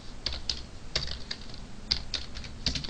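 Keys clack on a computer keyboard during Python programming, a close run of irregular, crisp taps spaced a fraction of a second apart with no voice over them.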